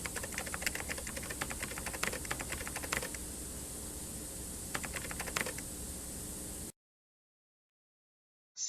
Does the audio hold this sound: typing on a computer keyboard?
yes